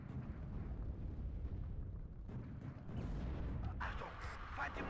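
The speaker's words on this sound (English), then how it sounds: "Artillery now landing on his command infantry." Artillery shells land in the video game WARNO during a ranked combined-arms match: a low, continuous rumble of explosions with sharper crackling impacts near the end, loud and layered over battle noise.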